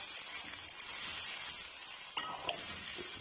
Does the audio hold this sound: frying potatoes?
yes